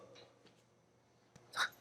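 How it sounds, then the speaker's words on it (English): A person lets out a single short, abrupt burp near the end of an otherwise quiet moment during a motorcycle exhaust install, close and fairly loud after faint background noise. "That was one of my specialty burps that only happens once a year."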